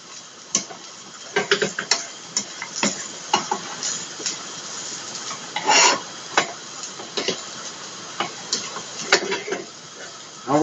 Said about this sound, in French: ASMR friture de radis bien sûr.